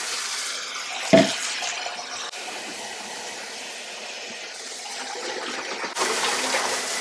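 Oil pours into a custom motorcycle oil tank converted from a 1974 XLCH gas tank, a steady liquid trickle and gurgle with a brief glugging splash early on.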